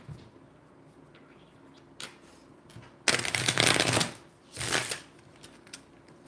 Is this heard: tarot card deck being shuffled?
yes